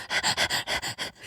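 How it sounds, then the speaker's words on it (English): A four-year-old golden retriever pants close by, a loud, rhythmic run of about seven quick breaths with no talk over it. "She is a 4-year-old golden retriever"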